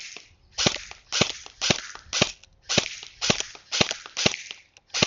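An airsoft submachine gun fires during a headshot test at about 50 feet, in repeated short bursts of sharp snapping shots with brief pauses between them, close and loud.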